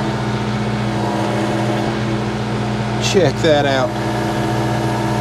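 A John Deere 4 series compact tractor runs at a steady, loud drone while lifting a heavy power pole, its engine hum constant throughout as someone speaks briefly near the end.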